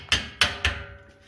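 Hammer smacking a steering knuckle on a 2003 Dodge to break loose a ball joint taper, three sharp metallic blows in quick succession, close and loud, then a faint fourth tap, with no talking.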